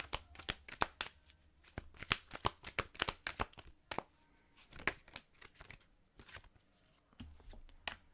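Tarot cards being shuffled by hand, close up, in a series of crisp riffling and slapping bursts separated by brief pauses, with no talking.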